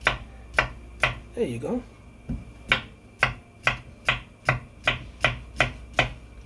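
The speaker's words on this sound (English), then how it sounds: "Okay, just cut these up like this." Vegetables being chopped for sancocho, a vegetable soup: a steady run of about a dozen crisp, close knife strikes on a cutting board at an even rhythm, with a brief spoken remark partway through.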